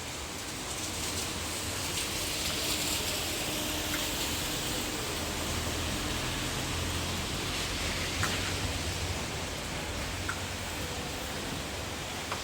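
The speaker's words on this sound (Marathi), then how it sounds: "तुम्ही बघू शकता पाऊस पुन्हा चालू झालेला आहे" Steady rain falls outdoors in the Andaman Islands, a continuous even hiss of drops that holds level throughout with no voices.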